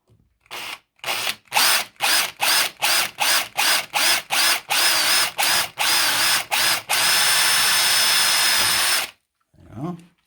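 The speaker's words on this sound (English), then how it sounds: "I'm going to put a pilot hole into the centre of that." A power drill bores a pilot hole for a self-tapping screw while repairing a broken electrical back box lug. Many short, loud whirring bursts come in a steady rhythm, then a longer continuous run before it stops.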